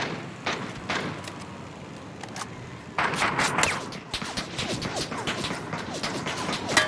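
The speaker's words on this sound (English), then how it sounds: "My teammates are shooting at my glider." Bursts of gunfire aimed at a glider in the battle royale game PUBG crackle in rapid clusters, louder and denser in the second half, with no one speaking.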